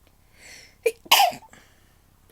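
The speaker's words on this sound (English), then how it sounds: "I'm going to sneeze." A single sharp sneeze bursts out after a brief, quiet inhaling buildup, close and loud, followed by a short pause and a faint breath or sound at the very end.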